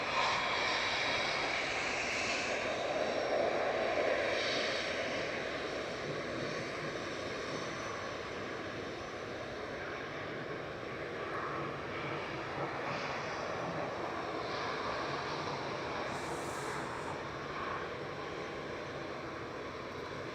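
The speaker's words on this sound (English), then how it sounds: "This is DAIBN, an A319." Lufthansa Airbus A319 jet at Manchester Airport, its engines producing a steady broad roar that holds loud and even throughout, slowly easing slightly, heard from a distance outdoors with no voices.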